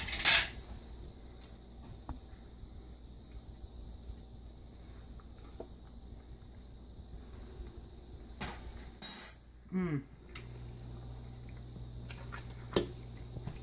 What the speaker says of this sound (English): Now I'm going to get a fork and taste this for seasoning right now.